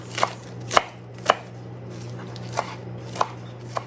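A knife makes small cuts through thawed, rolled-up spinach on a cutting board, six crisp taps spaced unevenly over a low steady kitchen hum, close and clear with no talking.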